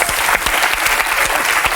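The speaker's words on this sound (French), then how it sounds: "on repart sur des applaudissements comme à la télé" A TV studio audience applauds on a French television talk show, the clapping loud, dense and steady for the whole stretch with no voices over it.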